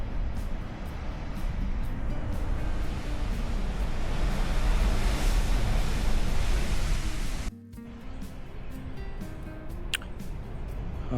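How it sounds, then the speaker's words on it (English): Ocean waves crash against rocks at the foot of a cliff, heard from above as a loud, steady broadband roar of surf that drops off sharply near the end and then continues more softly. "you can hear the water, the waves crashing against the rocks at the bottom."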